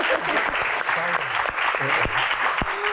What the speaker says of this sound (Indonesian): tepuk tangan buat Kang Sule